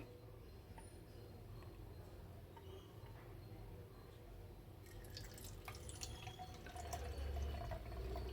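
Apple cider vinegar pouring from a bottle, a steady close liquid trickle with faint dripping and a slightly louder gush toward the end, no voices.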